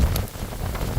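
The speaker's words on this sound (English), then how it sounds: "It's raining." Steady rain pours down in a dense, even hiss of drops striking surfaces, loud and close throughout with no voices.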